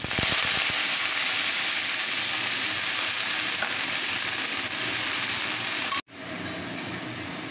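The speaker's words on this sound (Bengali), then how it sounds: "ফোড়ন হয়ে গেছে, পালং শাক কুচোনোটা দিয়ে দিচ্ছি।" Chopped winter spinach dropped into hot oil with tempered spices gives a loud, continuous sizzle and crackle, briefly cut off near the end before the frying hiss resumes.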